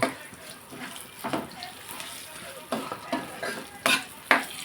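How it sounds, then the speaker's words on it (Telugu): Garlic frying in tempering oil for a gongura dal sizzles softly, broken by sharp stirring scrapes and clinks of a spoon against the pan that come in irregular bursts, loudest near the end. "ఎల్లుల్లిపాయ ఎర్రగా వేగింది కదండి"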